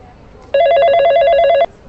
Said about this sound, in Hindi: तभी मेरा फोन बज उठा।